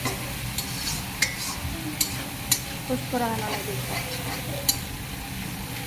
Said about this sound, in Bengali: ভালো করে নাড়াচাড়া করে নিচ্ছে, যাতে ভালো করে মশলাটা ভাজা হয়।